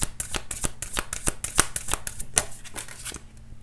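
Romance Angels oracle cards being shuffled, a rapid series of crisp riffling snaps in an uneven rhythm, close and fairly loud, with a faint steady hum underneath.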